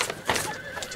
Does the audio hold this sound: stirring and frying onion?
no